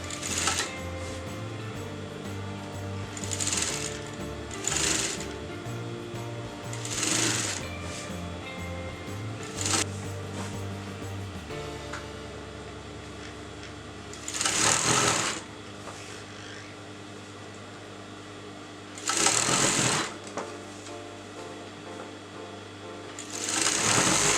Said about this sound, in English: replace the fabric again and continue sewing this